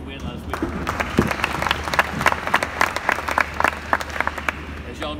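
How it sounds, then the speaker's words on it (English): A high school football team claps for itself in an uneven, lively burst of applause, with individual sharp claps standing out and some voices mixed in. "give you guys a round of applause for yourself for another big win last week"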